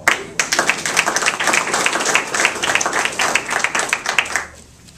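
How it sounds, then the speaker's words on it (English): An audience at a press conference on human trafficking in Los Angeles gives a full round of applause, a dense, loud wash of many clapping hands that holds steady and then fades out at the end. "I think we ought to give them a big round of"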